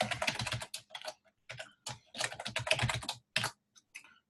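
Fingers tap out a password on a computer keyboard in quick, close bursts of clicky keystrokes separated by brief pauses.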